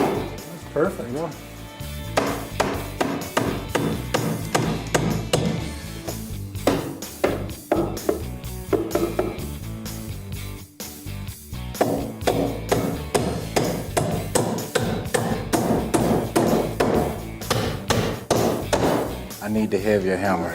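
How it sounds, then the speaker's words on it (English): Hammer blows driving nails into wooden framing studs, a steady run of loud, close strikes that pause briefly and then resume, with people talking over the hammering. "I need the heavier hammer."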